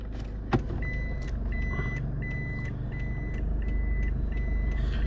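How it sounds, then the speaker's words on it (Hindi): A car reverses on a fog-covered city road, its engine idling low and steady beneath a regular series of short, clear reversing beeps, with a single sharp knock near the start. "मुझे एक बार फिर बैक करना पड़ेगा और ध्यान करना पड़ेगा कि पीछे कोई गाड़ी तो नहीं है।"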